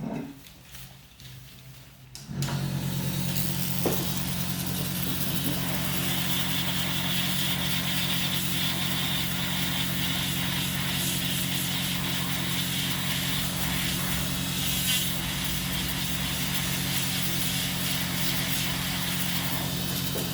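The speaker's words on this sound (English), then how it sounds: "So I'm just going to use a drill now." After a brief quiet start, an electric nail drill's steady motorized whirring hum kicks in while trimming a fungal toenail, running evenly for the rest of the clip, close and constant.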